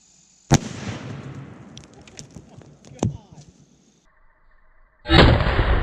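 A single loud .270 Winchester rifle shot cracks at a pumpkin outdoors, with a sharp report and rolling echo, followed by voices talking and another sharp burst at the end.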